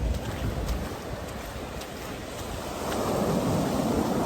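Ocean waves wash steadily onto a beach, a constant broadband rush mixed with wind buffeting the microphone, fairly loud and close with no voices.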